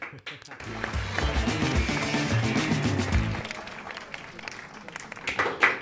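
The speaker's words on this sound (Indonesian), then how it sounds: "Boleh tepuk tangan dulu." Audience applause during a podcast taping with a band guitarist, a dense wash of clapping that swells for a few seconds and then fades under continuing voices and scattered claps.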